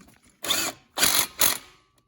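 A hand ratchet tightens the strut bolts on a Ford Fusion during front strut replacement, three short bursts of rapid clicking with brief pauses between them, close and clear with no talking.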